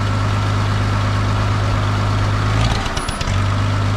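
A Farmall 560 tractor with a newly installed distributor and electronic ignition idles with a steady, loud low drone, briefly dipping and roughening as the throttle is cracked before settling back to an even idle.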